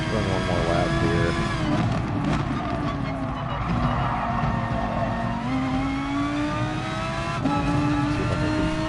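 A race car engine drives through a lap in the Gran Turismo Sport video game, a loud continuous whining drone that rises through the revs, drops with gear shifts and climbs again, with faint tyre squeal near the corners.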